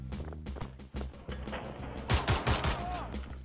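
Bursts of machine gun fire in Wolfenstein: The New Order arrive as a rapid series of loud, close shots that grow denser toward the end.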